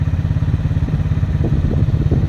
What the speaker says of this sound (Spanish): Ánimo, andamos en moto ahora